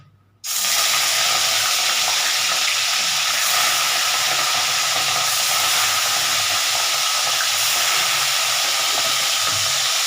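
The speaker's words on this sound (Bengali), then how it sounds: "তেলটা গরম হয়ে গেছে আমি গ্যাসটা একটু কমিয়ে নিচ্ছি বেশি করা হবে না তো মাছগুলো আস্তে আস্তে আমি ভেজে নিচ্ছি" Pieces of katla fish frying slowly in hot oil over lowered gas, producing a loud, continuous close-up hiss that starts abruptly and holds steady throughout with no voices.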